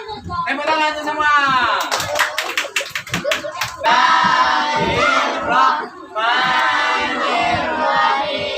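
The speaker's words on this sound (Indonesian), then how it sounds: "Tepuk tangan semua." Elementary schoolchildren in an Islamic primary school classroom chant loudly in unison, broken by a brief burst of rhythmic group hand clapping and more voices.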